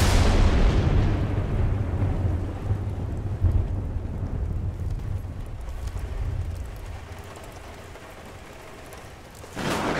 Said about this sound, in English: Wait for the thunder, and then take him out.